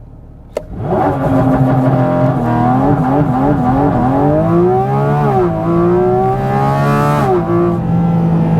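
A 2023 Porsche 718 Cayman GT4 RS's naturally aspirated engine idles, then revs hard under launch control and holds high steady revs with wavering pitch, loud and close, before easing slightly near the end.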